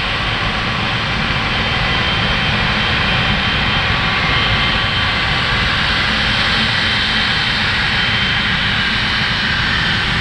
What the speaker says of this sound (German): Von uns aus gesehen, das linke wurde heruntergefahren, das rechte ist noch aktiv.